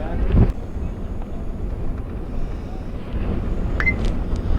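Wind buffets the microphone at an outdoor baseball game, a steady low rumbling roar that swells and fades, with a faint voice underneath.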